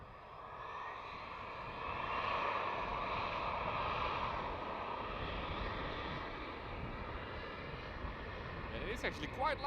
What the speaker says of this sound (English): Up for the E175, the smallest plane in the KLM fleet.